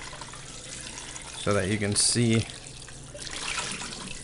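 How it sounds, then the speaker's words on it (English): A gold paydirt concentrating machine sprays water, producing a continuous hiss and trickle heard under someone speaking. "that water spraying out. That's what's going to agitate those lights to the top or to the surface for us."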